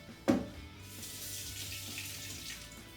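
Water runs steadily from a kitchen tap for beetroot sourdough dough, a continuous hissing rush with a brief splash at the start and no voices.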